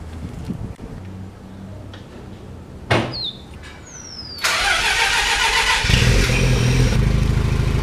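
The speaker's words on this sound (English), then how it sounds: "So let's go through and start it up." After a door clunk and a short starter crank, a 1997 Mazda RX-7 FD3S Touring X sports car engine fires up and settles into a loud, steady, raspy idle.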